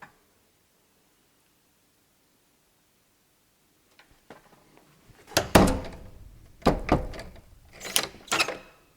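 A heavy door in the Kelvedon Hatch nuclear bunker is tried and swung, giving a few faint knocks and then three loud, close thuds and rattles in quick succession, with no talk.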